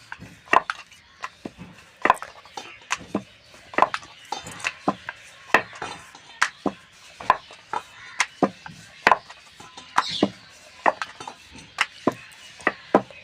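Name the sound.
rolling out paratha dough with a rolling pin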